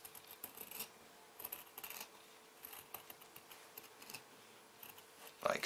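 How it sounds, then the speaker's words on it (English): Scissors snip around the curved edges of shirt fabric in short, quiet, irregular cuts, close and soft, with a louder rustle at the end. "Just trim these edges round, like so, and then on this side as well."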